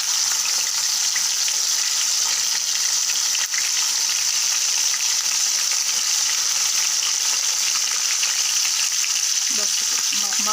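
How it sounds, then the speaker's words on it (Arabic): Tuna pieces frying in hot oil give a steady, dense sizzle that stays loud and continuous throughout, with a faint clatter near the end as pieces are laid side by side. "الزيت بتاعنا سخن اهو. نحط بقى فيه نرص كده واحده جنب واحده"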